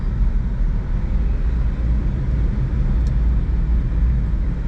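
An automatic Kei truck's engine drones in a steady, loud low rumble as it accelerates downhill, with no talking.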